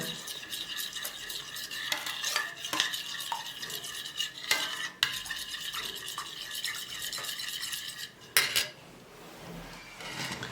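A spoon stirs a shea butter soap mixture in a bowl, giving repeated close scraping and clinking strokes in an uneven rhythm, with a sharper knock near the end.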